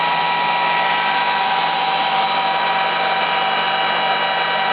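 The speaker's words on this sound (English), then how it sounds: "The fans seem to be working. Noisy little things." A server's cooling fans run noisily during disassembly for cleaning, a loud, steady whooshing roar with a constant tonal hum, unchanging throughout; no talking.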